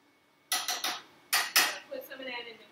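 Metal pan and utensil clatter on a stovetop as cooking butter oil goes into the pan for stir-fried vegetables, several sharp close clanks followed by lighter scraping and tapping.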